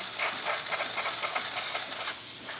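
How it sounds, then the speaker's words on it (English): Breville Barista espresso machine venting steam after a full tune-up, a loud, steady close hiss running without pause, with no talk over it. "Excellent steam coming out from the machine."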